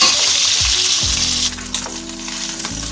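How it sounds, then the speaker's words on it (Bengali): Rohu fish pieces fry in hot oil in a pan, turned over to cook the second side. A loud, steady sizzle sits close, with a few soft knocks and shifts as the pieces are moved. "এখন আমি ওই দিকটাও ভেজে নেবো।"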